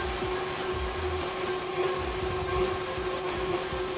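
A continuous hissing of cooking spray onto a Teflon Bundt pan sounds close up, steady throughout with faint rubbing and brief interruptions, no voices.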